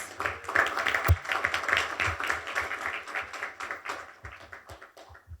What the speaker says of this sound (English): Can we get a round of applause for the wait staff